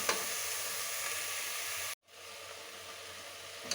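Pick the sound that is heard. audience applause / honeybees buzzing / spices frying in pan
spices frying in pan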